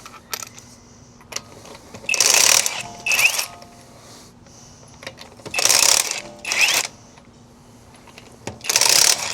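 Lug nuts being removed from the rear wheel of a Nissan Silvia S15 with an impact tool or wrench. Several loud bursts of rattling, whirring metal alternate with quieter pauses and faint clinks, all close by.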